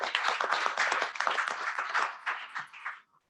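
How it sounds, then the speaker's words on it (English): A small group at a board of directors meeting claps for the staff, a brief round of distinct close handclaps that thins out and stops abruptly near the end. "they deserve a round of applause"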